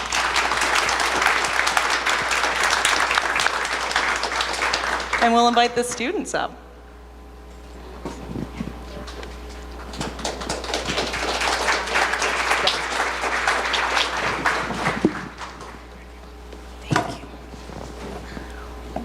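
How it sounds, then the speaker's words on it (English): A crowd claps loudly for several seconds, then a single voice speaks briefly before a second, longer round of applause builds and fades. "giving these 3 amazing individuals a round of applause"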